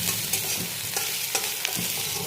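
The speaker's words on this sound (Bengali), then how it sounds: "পেঁয়াজগুলো দিয়ে দিয়েছি, তার মধ্যে কালো জিরে দিয়ে একটু পেঁয়াজগুলো লাল লাল করে ভাজছি" Onions with nigella seeds frying in a pan, a soft continuous sizzle with intermittent spatula scrapes and stirring taps, close and moderately quiet.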